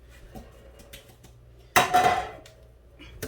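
Metal cake pans clatter and clang in a kitchen sink during washing, a sharp loud crash breaking through quiet background handling noise and fading away over about a second.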